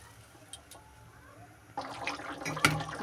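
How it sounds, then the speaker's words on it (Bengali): Water poured into a pot of jackfruit cooking on the stove, a quiet stretch giving way to a steady, splashy pouring wash that builds toward the end of the clip. "কাঁঠালটা আমার আরো সেদ্ধ হবে, তার জন্য একটু বেশি জল দিয়ে দিলাম।"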